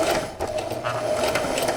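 A sewing machine stitches two pieces of climbing rope together, running as a fast, even mechanical whir close by, continuous throughout with no speech.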